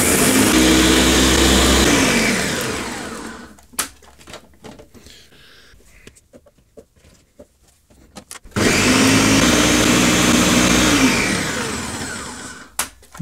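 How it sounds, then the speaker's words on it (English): A blender whirs loudly through a fermentation mix with salt, running steadily for a few seconds, stopping for a quiet gap with a few clicks and knocks, then starting up again at full power before winding down. "Put the lid back and let's make sure it's all connected up and let's give it a blend"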